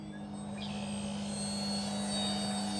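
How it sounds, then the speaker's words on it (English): An FMS Super EZ 1220mm radio-controlled airplane drones steadily overhead during its maiden flight, a continuous motor hum with a high whine, loud and constant with no voices. "I am really enjoying flying this plane."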